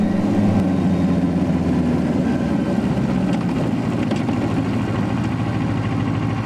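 A Kawasaki Ninja 400 motorcycle engine, push-button started, runs at a steady idle, a continuous low rumble that stays loud and unchanging throughout.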